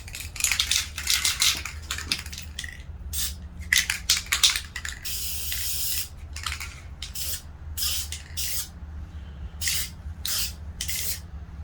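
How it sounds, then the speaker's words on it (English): Spray paint hisses from a can onto rifle rail covers in close, repeated bursts of varying length, some brief and some sustained, with faint rattling between sprays. "Time to paint."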